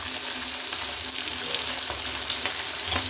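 Chicken pieces frying in hot oil with a little chili powder, a steady dense sizzle with faint stirring clinks, close and continuous with no talking.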